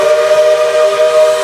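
An American steam whistle from the Roblox game RO-Scale Sandbox sounds as one steady, loud, sustained chord-like tone, held without a break and heard alone.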